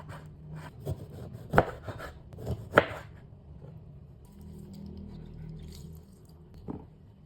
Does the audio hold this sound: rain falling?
no